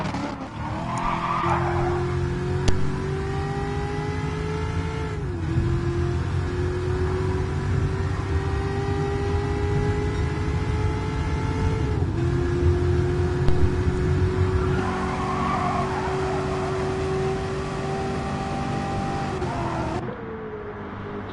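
Chevrolet Camaro race car skids with a long, sustained tire squeal over steady engine drone, its pitch sliding and rising in waves through the run before cutting off near the end; loud and continuous, no talk.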